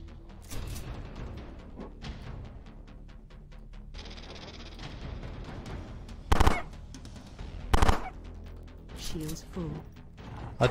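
Gunfire from a weapon in the Xbox One shooter Time Carnage rattles in rapid bursts, with two loud, heavy blasts standing out from the battle clatter while someone talks underneath.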